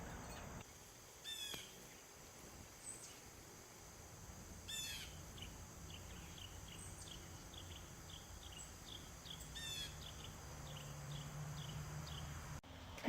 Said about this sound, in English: The bird song.